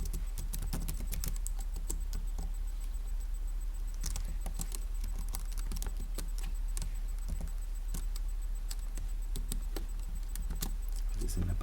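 Steady, rapid clicking of keys on a computer keyboard, close and continuous throughout with a constant background hum and no talking.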